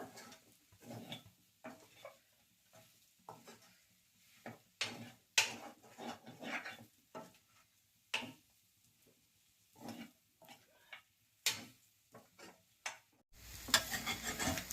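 Chicken and green chillies fry in a pan, soft sizzling broken by repeated scraping stirs and light clinks of a spoon against the metal, uneven in rhythm and fairly close, with a louder rush of frying at the end.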